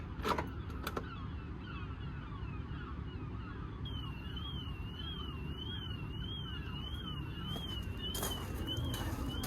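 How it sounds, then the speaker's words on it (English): A van alarm triggered on locking wails with a steady warbling tone that starts a few seconds in and keeps going over a constant background rumble. "The alarm goes off as soon as I lock it."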